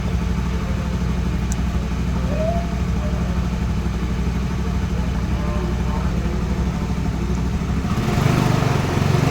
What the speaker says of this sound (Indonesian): Kemudian kita coba untuk menambah gasnya